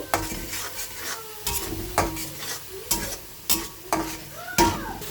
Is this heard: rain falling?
no